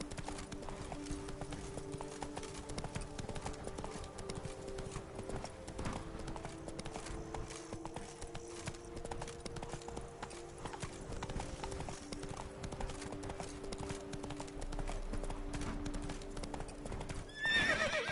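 Roach the horse's hooves clip-clopping in The Witcher 3, a steady fast rhythm of hoofbeats under ambient game sound, ending with a brief neigh.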